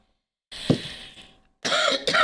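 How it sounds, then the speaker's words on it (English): A woman coughs indoors in dry heat from the central heating while doing Easter crafts: one close, harsh cough, a pause, then two more quick coughs in a row. "I'm coughing because the heating's on and it's quite a dry heat."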